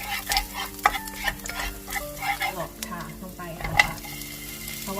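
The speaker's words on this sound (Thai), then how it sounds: "ใส่กระเทียมนะคะ ผัดกระเทียมให้หอมค่ะ" Garlic being stir-fried in a pan for a vegetable and tofu dish, a steady sizzle with repeated scraping and clinking of the utensil against the pan.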